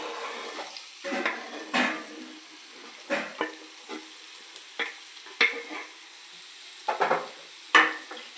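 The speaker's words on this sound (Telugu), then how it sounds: "ఆయిల్ వేడెక్కిన తర్వాత ఉల్లిపాయలు వేసుకుందామండి" Chopped onions fry in hot oil for a country-chicken egg fry, giving a steady sizzle broken by repeated scraping stirs of the spatula against the pan at irregular intervals.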